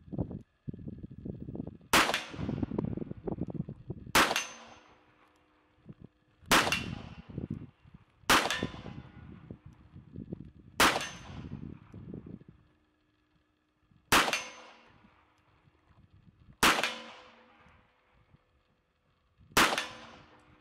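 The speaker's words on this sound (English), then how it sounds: "I'm shooting this performance center 3-7 Magnum, and I was shooting Black Hills 38 Special, 158 grain 38 Special through it." Eight revolver shots from a Smith & Wesson Performance Center .327 Magnum loaded with Black Hills 158-grain .38 Special rounds, each a sharp, loud crack with a ringing tail, spaced a couple of seconds apart in an open outdoor setting.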